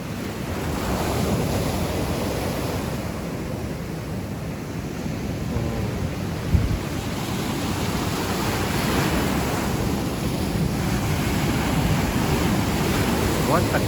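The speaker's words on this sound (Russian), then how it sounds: "Штормящее море на фоне Карадага." Rough Black Sea surf near Karadag, Crimea, crashing and rolling continuously, mixed with heavy wind buffeting the microphone, loud and close for the whole stretch.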